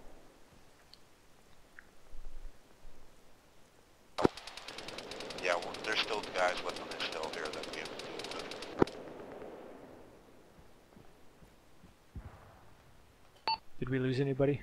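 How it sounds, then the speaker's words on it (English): Rapid automatic gunfire from the Arma military game, played in a ShackTac squad session, rattles in a dense burst of several seconds with sharp single shots at its edges, followed by a few faint clicks and beeps. "We're taking fire from the church area."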